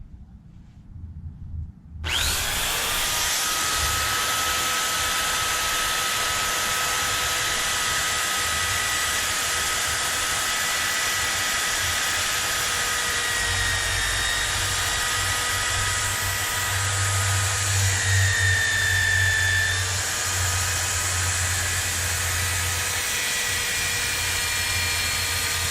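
Power tool polishing the valves of a Toyota 2JZ VVTI cylinder head: a steady, close, high whine that starts abruptly and runs unbroken with slight pitch shifts, with no talking.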